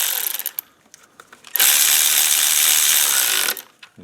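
Hand ratchet tightening valve cover bolts on a 2009 Toyota Camry 2.4L: a few short ratchet clicks, then a steady two-second burst of rapid close ratcheting that stops abruptly, followed by a couple of faint clicks.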